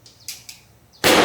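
A single gunshot from a Rossi 1911 pistol cracks out loud and close near the end, following a few faint mechanical clicks and handling sounds.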